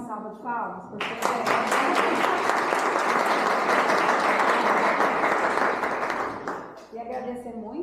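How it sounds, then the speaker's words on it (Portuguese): Applause from an audience at a talk on the totality of the human being, a dense sustained wash of clapping lasting several seconds, with speech just before and after. "Vamos bater mais uma salva de palmas"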